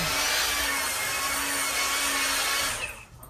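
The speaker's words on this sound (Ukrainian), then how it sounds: "Ця болгарка з кікдауном. І вона відключається." A Grosser angle grinder with a kickdown safety feature runs at full speed, producing a loud, steady, close high-pitched whine for almost three seconds before it shuts off and winds down abruptly.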